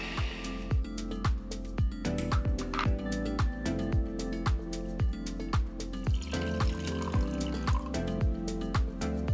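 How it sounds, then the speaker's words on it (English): Blended pandan leaves and warm filtered water are strained into juice, a steady trickle of liquid pouring for several seconds with a soft, regular pulsing splash. "Then strain the mixture to get the pure pandan juice."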